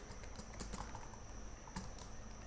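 Steady keyboard typing while entering PHP code for a WordPress site, a fairly faint run of irregular key clicks with a couple of sharper taps, alone with no talking.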